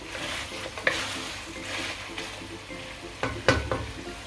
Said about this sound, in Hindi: ये चिकन हमारा तकरीबन भुन गया है।